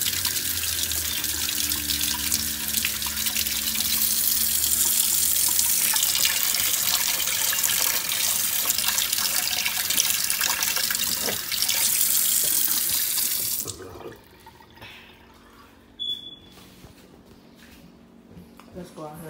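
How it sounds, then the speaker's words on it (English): A kitchen faucet runs steadily in a strong, close hiss of water, then cuts off abruptly after about fourteen seconds, leaving a quieter room with a brief squeak and small handling noises. "I'm grown as hell and still drink out the faucet"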